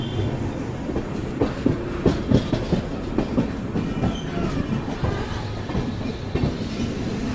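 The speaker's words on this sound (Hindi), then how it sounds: "2 बार चैन पुलिंग के बाद निज़ामुद्दीन से अपनी ट्रेन ने डिपार्चर ले लिया फाइनली" Superfast Express passenger train leaving Nizamuddin on its New Delhi to Ambedkar Nagar run, with steady rumbling on the rails and rhythmic clickety-clack of the wheels over the joints, heard from on board.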